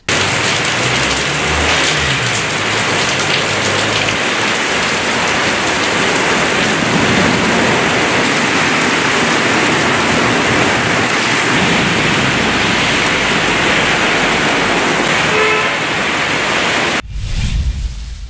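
Heavy rain pours steadily and loudly, the dense roar of downpour flooding roads and drains in Bidar, Karnataka, continuous for the whole stretch before cutting off abruptly near the end.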